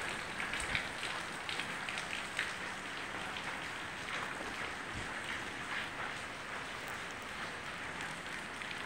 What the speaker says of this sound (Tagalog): Malakas na ulan dito ngayon sa Bicol region.